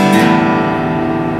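Open strings of an acoustic guitar plucked in quick succession from low to high, ringing out loud and close with sustained overlapping tones and no voice.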